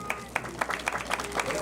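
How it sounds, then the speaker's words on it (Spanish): A small crowd claps in welcome at a municipal inauguration ceremony in Laramarca, the applause coming in uneven bursts with a voice audible over it. "Lo recibimos con aplausos a nuestra primera autoridad municipal."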